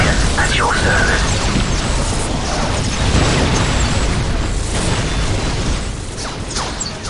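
Gunfire and explosions from a Warhammer 40,000: Dawn of War Soulstorm battle between the Eldar and Tau Empire, loud cracks and booming blasts in dense succession, with voices over the din.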